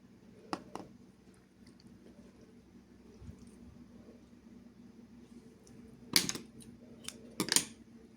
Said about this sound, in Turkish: İpim kısaldığı için onu kesiyorum.